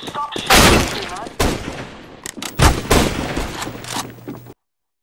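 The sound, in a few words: gunfire in the video game CS GO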